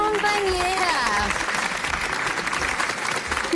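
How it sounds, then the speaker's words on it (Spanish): Applause for a former colleague at a small workplace gathering with cake, clapping under overlapping cheerful voices and a sung or whooping tone at the start, then settling into steady clapping and chatter. "Un aplauso para nuestra ex compañera."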